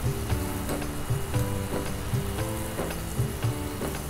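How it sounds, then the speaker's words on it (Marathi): Coconut sautéed in masala in a pan gives a loud, steady sizzle and frying hiss, with a repeated stirring rhythm throughout and no voices. "आता मसाल्यामध्ये हे टाकून आपण पुन्हा एकदा व्यवस्थित परतून घेणार आहोत"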